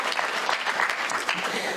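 An audience claps steadily in a hall, dense and continuous applause filling the whole moment with no distinct break, some murmur of voices underneath.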